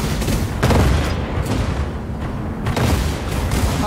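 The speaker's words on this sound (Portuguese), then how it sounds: "tô atirando tudo que eu tenho nesse Dirt Silver Hammer" Ship cannons firing at the Dirt Silver Hammer in Cloud Pirates, a steady barrage of booms and gunfire with heavier thumps recurring every second or so, loud and dense throughout.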